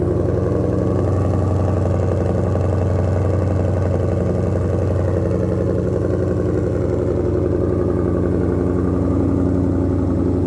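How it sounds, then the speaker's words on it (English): A 2021 Ford Mustang Shelby GT500 idles steadily after a remote start, its deep engine rumble loud and continuous with a slight lope throughout, heard from close by with no talking. "Does have auto start, so I wanted to fire that up for you quick from back here so you can hear it."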